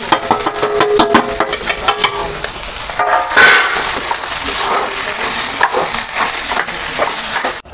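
Boiled potatoes with spices and ground niger seed frying in a pan while being stirred, a steady loud sizzle broken by scraping stirs, with no talk.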